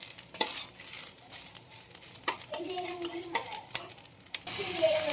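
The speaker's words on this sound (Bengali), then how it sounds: "এভাবে করে একটু হালকা হালকা করে ভেজে নেব" Something frying and being stirred in a pan, with a soft sizzle under repeated scraping and clinking strokes that come in irregular bursts, close by and fairly quiet, with no voices.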